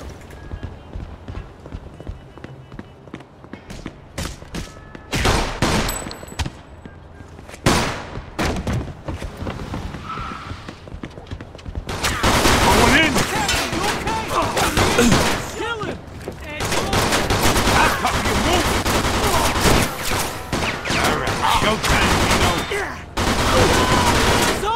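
Mafia 2 shootout with sporadic loud gunshots at first, then sustained heavy automatic gunfire that roars almost without a break, voices shouting over the din.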